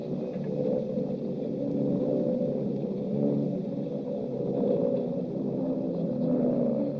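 Low-flying aircraft drone overhead as a wartime radio drama effect, a steady, dense engine rumble that holds at an even level throughout without voices.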